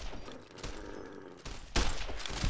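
Two quick gunshots in Fallout New Vegas burst out close together late in the moment, loud and sharp over a steady game background hum.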